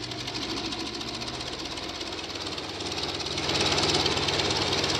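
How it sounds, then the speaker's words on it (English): Fairey Swordfish biplane's piston engine running close and loud as a steady rough drone, the power rising noticeably partway through toward run-up and holding there. "As it settles down into idle RPM, eventually we can hear the power increasing to run-up."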